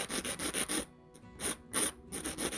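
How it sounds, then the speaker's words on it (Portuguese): Sandpaper rubbing the tip of a fiberglass piece for nail curvature work, in quick rhythmic back-and-forth strokes, a run of several, a pause, then more strokes, close and clear with no talk. "Então eu vou começar lixando a ponta, geralmente com a lixa posicionada reta"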